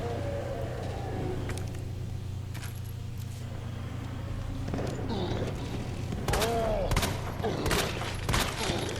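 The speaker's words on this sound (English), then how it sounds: "there's the pistol shot" A pistol shot in Resident Evil 2 Remake fires as one of several sharp, loud bangs near the end, over a steady low game hum and rumbling background.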